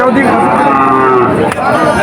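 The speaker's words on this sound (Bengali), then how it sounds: "এইখানে আরো দুইটা গরু দেখা যাচ্ছে, এই একটা বাছুর আর এই একটা গাই।" A cow lows at a busy cattle market in Betaga, where cows and calves are on sale; one drawn-out moo sounds close by against a steady background of crowd chatter.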